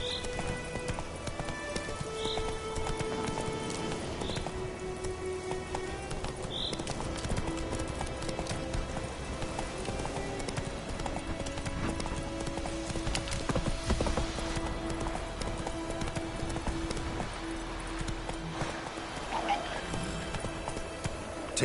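Horse hooves clip-clop in a steady galloping rhythm in Witcher 3 Wild Hunt, close and continuous over a low ambient game soundscape, with an occasional faint whinny.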